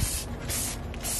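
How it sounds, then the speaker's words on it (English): Quick hissing bursts from a spray bottle spraying shampoo onto a horse, a few pumps in rapid succession, close and fairly loud. "So we're just gonna spray him on down."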